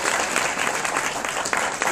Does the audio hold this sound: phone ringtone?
no